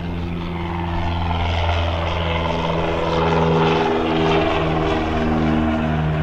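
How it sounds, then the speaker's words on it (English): A donated EA-6B Prowler jet aircraft passing at Hickory, N.C. airport, a loud, steady engine roar with a low droning hum that swells gently as it goes by. "we'll let this airplane talk a little bit and let him go by"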